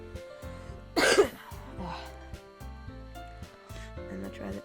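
A single cough rings out loud and broad for about half a second, cutting above steady background music with a rhythmic tonal beat.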